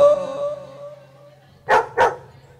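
Two sharp, loud dog barks come in quick succession after a fading sustained musical tone, heard at a live tropical music dance event.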